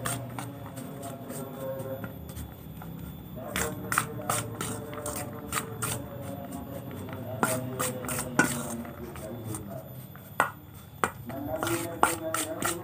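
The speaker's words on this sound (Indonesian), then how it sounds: "Oke, lanjut kita aduk kembali sampai rata." A catfish bait mixture for galatama pond fishing is stirred by hand, producing close, irregular scraping and clicking knocks that come in bursts over a low steady background.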